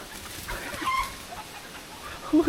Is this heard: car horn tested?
no